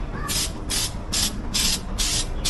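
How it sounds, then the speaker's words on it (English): Filter oil sprayed from an aerosol can onto a Harley-Davidson air filter during a home service: six short, loud hissing bursts in a regular rhythm, close up, with faint background noise between them. "Next thing we're going to do is give the filter a spray of the filter oil."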